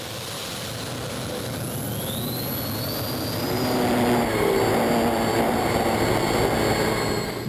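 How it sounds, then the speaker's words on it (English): Turbine-engined pulling tractor at a 4.5-ton Eurocup tractor pulling event in Herning, Denmark, winding up with a loud, rising jet-like whine and rushing roar that builds steadily. "Winding up the turbines."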